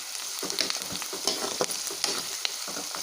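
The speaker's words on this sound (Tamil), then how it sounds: "வெங்காயம் வதங்கிட்டுருக்கு" Onions frying in a pan for dried shark fish thokku, a steady close sizzle with scattered crackles and light stirring clicks throughout, no voices.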